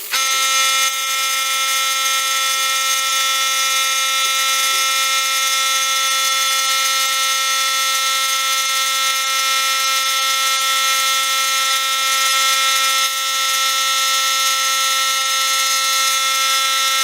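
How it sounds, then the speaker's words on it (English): A small Harbor Freight air compressor runs continuously, giving a loud, steady, high-pitched buzzing whine with unchanging tone throughout. "This is a small Harbor Freight compressor."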